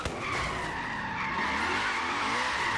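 Car tires spin and skid continuously in Forza Horizon 3 as a Hoonigan car lights up its rear wheels in second gear, a loud, steady screech with engine roar throughout.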